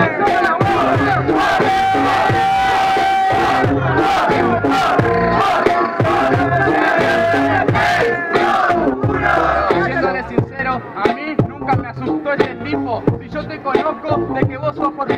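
A crowd at a freestyle rap battle cheers and shouts loudly and steadily, with the noise thinning toward the end.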